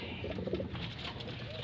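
Pigeons coo in soft, low, repeated murmurs at close range, backed by a steady ambient hiss, with no talking.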